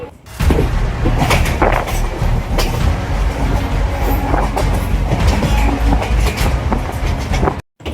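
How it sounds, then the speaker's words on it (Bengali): Passenger train travelling from Howrah to Digha in West Bengal, heard from inside the carriage: a steady loud rumble with rattling wagon noise and wheel clatter throughout, with one brief dropout near the end. "হাওড়া থেকে এখন দীঘার ট্রেন ধরবো।"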